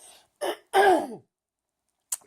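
A person with an irritated throat clears it and coughs close to the microphone: a short rasp, then a longer, harsher throat clearing, silence, and one brief cough at the end.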